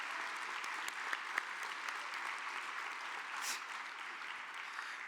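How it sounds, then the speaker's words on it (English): An audience at a community violence intervention convening gives a sustained round of applause, dense even clapping at a moderate level with a few louder claps standing out. "Let's give them a round of applause"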